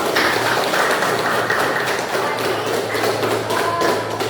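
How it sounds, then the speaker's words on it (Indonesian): Classroom students applauding after an algebra lesson answer, a dense continuous patter of hand claps with some taps and thuds, fairly loud throughout. "Tepuk tangan dong."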